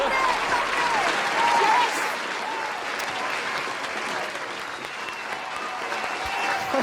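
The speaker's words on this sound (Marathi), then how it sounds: "जोरदार टाळ्या" An audience at a Marathi comedy show applauds, a dense, sustained clapping from a crowd with faint cheers and voices mixed in, tapering slightly then swelling again.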